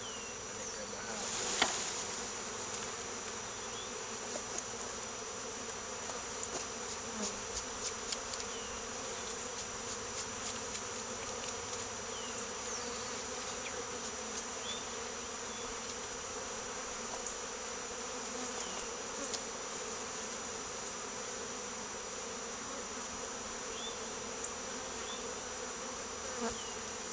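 Honeybees from a captured swarm buzz steadily around a hive being installed, a continuous close drone of many wings lasting throughout with no talk.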